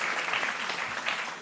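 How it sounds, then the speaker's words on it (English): Audience applause at a 2019 school graduation ceremony, a steady, dense wash of many hands clapping that fills the whole moment without a break. "Please clap, Alvaro."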